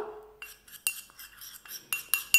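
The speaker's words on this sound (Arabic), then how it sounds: "هانتوما كتشوفوا نخلط المكونات" Flour and lemon juice being stirred together with a small spoon in a bowl for a homemade hand scrub: a series of close, sharp clinks and scrapes of metal against the dish, repeating in uneven bursts with no talking.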